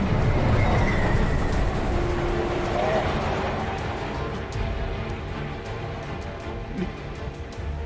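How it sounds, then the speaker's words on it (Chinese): A train rolls steadily along its rails, a dense continuous rumble with faint rhythmic clicks that eases slightly in loudness over time, with people talking over it. "没接到指示，这列火车不能停"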